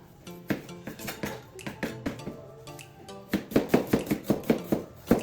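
A knife chops small garlic, onion and tomato on a cutting board, a run of quick, even taps that grows louder and faster toward the end, close and clear with no talking.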